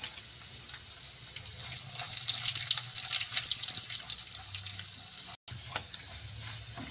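Chopped cashews and almonds frying in hot ghee, a bright continuous sizzle with crackling pops and a brief drop-out near the end, no voices.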